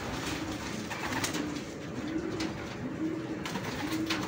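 Pigeon or dove gifted as a pet bird, giving repeated soft, low coos at a steady pace under a constant noisy outdoor background.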